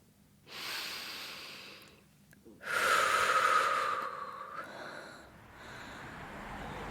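A person draws a long audible breath in, then a second deep inhale with a slight wheezy hiss, followed by a softer exhale, close to the listener in open air after leaving a bus.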